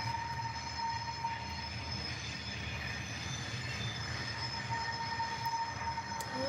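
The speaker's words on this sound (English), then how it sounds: "A southbound N&W has just picked up the train that was previously set off at Waverly by the Grand Trunk." A Norfolk & Western freight train rolls steadily past, a continuous rumble of railcars with faint wheel squeal, heard from a moderate distance without talk.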